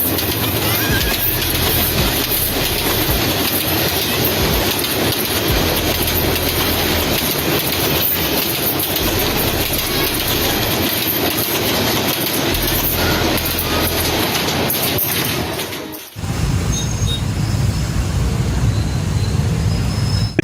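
A passenger train in Vietnam, with riders on the carriage roofs, rumbles along the rails with continuous loud clatter and roaring wind, then the sound abruptly shifts to a lower, heavier rumble near the end.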